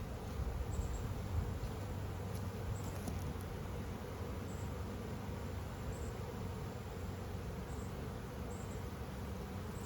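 A large swarm of honeybees from a big rescued hive hums in a steady, dense drone that holds evenly throughout, soft and continuous with no voices.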